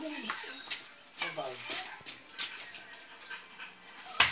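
Small dog whimpering and yipping in short, broken bursts close by, with a person talking over it at moderate volume.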